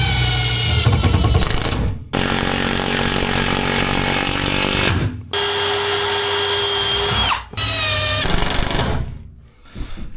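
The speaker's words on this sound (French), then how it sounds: "Donc j'ai juste un petit trou à percer." A power drill bores a small hole for an angle bracket while fitting out an expedition truck, running loud in three long whining bursts with brief pauses between them.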